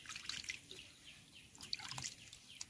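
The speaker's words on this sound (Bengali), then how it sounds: "ভালোভাবে আমটা আমি ধুয়ে নেব" Mangoes being rinsed in water to wash off their sticky sap, with faint, intermittent splashing and dripping trickles, soft and close, with a bird calling faintly in the background.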